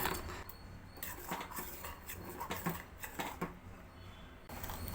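Phirni with saffron-soaked milk being stirred in a pan, quiet irregular scraping and soft tapping of a utensil against the pan, close and low in level with no voices.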